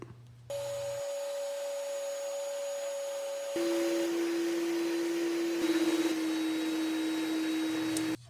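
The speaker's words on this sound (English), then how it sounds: "Now I'm going to shape the handle using this oscillating sander, the Dremel, and this 1x30, all with 80 grit." Power sanders with 80 grit paper, including an oscillating sander, a Dremel and a 1x30 belt sander, shape an epoxy knife handle, giving steady close motor whines that change pitch as tools switch.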